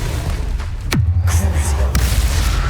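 Bombarda spell explosions in Hogwarts Legacy, with a sharp blast followed by a falling whoosh and a low rumble, then a second impact over continuous combat noise.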